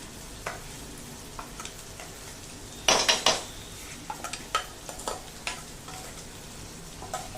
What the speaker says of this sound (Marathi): आणि हे छान मस्तपैकी तेल सुटेपर्यंत परतून घ्यायचं.